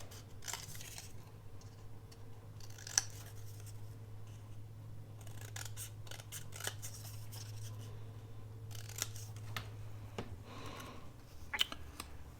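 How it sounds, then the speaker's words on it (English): Scissors snipping paper while trimming a piece for a collage at a craft desk, a few quiet scattered cuts and soft paper rustles over a steady low hum. "I'm going to trim off a little bit more of it"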